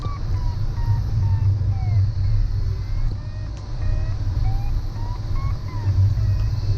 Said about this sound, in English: Listening to the positive beeps of the Vario.